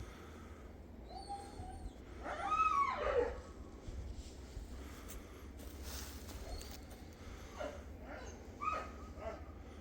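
A dog yelps and whines from below in a couple of short high cries, moderately close, over a steady low outdoor rumble with faint bird calls.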